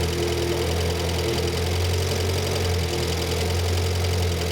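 Renault 5 Gordini Turbo engine idling after an idle mixture screw adjustment, a steady, loud, close low hum with constant mechanical chatter and no speech over it.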